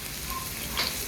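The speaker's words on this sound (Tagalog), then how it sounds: "Gigisa natin yung bawang." Garlic sautéing in a pan, a steady close sizzle with a faint stir or scrape near the end, brief and unaccompanied by speech.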